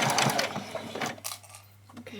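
A sewing machine stitching a doll's dress, a close rapid mechanical whirr in short bursts, partly under a person talking.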